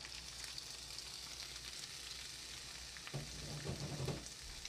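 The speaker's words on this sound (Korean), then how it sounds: "양손으로 꿀뜨기에 오일이 코팅되도록 빨리빨리 볶아줍니다" Baby squid stir-fried fast in grapeseed oil over high heat in a wok-style pan, giving a faint, steady sizzle with louder clattering stirring toward the end.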